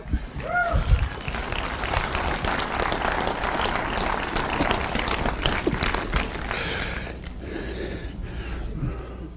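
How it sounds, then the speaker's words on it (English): Applause and cheering from a motivational-speech audience rise after a call for a round of applause, a dense continuous wash of clapping with voices mixed in, fairly loud and sustained. "get over there, a round of applause"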